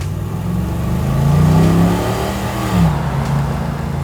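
A 1969 Chevrolet C10 truck's engine revs on its first drive, a loud, close, deep rumble that swells up and eases back twice over a steady low drone.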